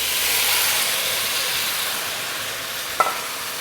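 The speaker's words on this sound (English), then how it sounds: "my pot is hot, the oil is hot, and my beef is seasoned." Seasoned beef sautés in hot oil in a pot for Trini beef soup, a steady bright sizzle and hiss with one sharp clink near the end.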